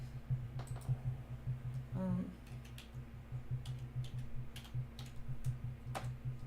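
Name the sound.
typing on a computer keyboard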